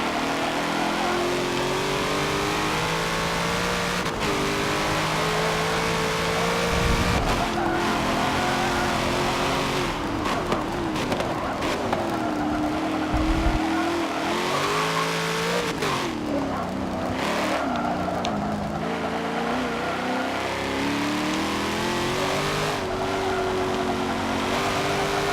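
Race car engine in Forza Motorsport 7, revving and shifting continuously through corners with rising and falling pitch, the throttle blipping and the tires scrubbing, loud and close throughout.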